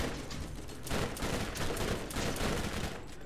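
Dense, continuous gunfire in the Borderlands shooter game, heavy bursts overlapping into a sustained fusillade at close range, loud throughout with no talk.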